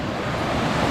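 Mountain creek water rushing steadily along a hiking trail, a continuous broadband wash close by and loud, with no voices.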